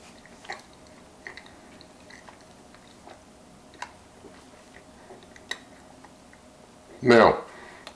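Lemon oat flour cookies, baked in a Calphalon air fryer toaster oven, are chewed with faint, scattered crunchy clicks, then one loud, close crunching bite near the end.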